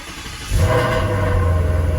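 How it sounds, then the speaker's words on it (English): A car engine idling in its quiet-start mode at an early-morning Caffeine & Octane meet in Atlanta, settling into a steady low rumble after a short quiet lead-in, close and unaccompanied by voices. "we have a Course Extreme, but we still have the quiet start"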